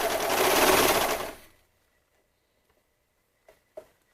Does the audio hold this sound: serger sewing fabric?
yes